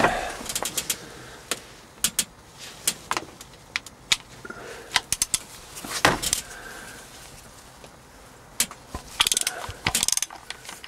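A ratchet wrench with a short extension works the cylinder head cover bolts on a Peugeot 307 diesel, giving bursts of sharp, close clicking with short pauses between strokes and no talk.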